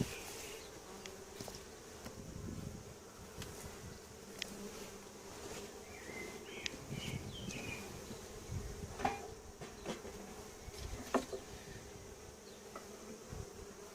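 Honey bees buzz continuously around a homemade beehive during an inspection, a soft layered drone with individual bees passing nearby and occasional faint clicks of the frames.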